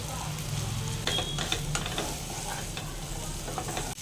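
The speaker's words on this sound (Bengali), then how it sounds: "এখানে ক্যাপসিকাম পেঁয়াজ আর চিকেনটা একসাথে ফ্রাইটা হয়ে গেছে" Chicken, onion and capsicum stir-frying together in a pan for an egg chicken roll, a loud steady sizzle with several sharp scraping strokes of a spatula, close and alone.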